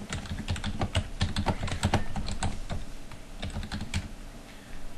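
Steady run of computer keyboard keystrokes as a message is typed into an email form in photo-editing software, quick irregular clicks close and clear with no talk.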